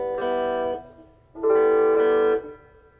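An electric guitar plays through a Lekato mini guitar amp with its reverb effect switched on. Two fairly loud sustained chords ring out, each with a lingering decaying tail, and faint hiss sits between them.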